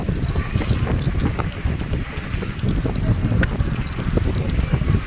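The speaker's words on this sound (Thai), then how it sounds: "นี่ เครื่องคัดไข่ นะครับ" An egg sorting machine grading eggs as it runs, giving a loud, steady mechanical rumble with dense rattling clicks throughout and no clear voices.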